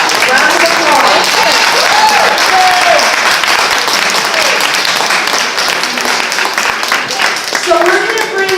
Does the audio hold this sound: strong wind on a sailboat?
no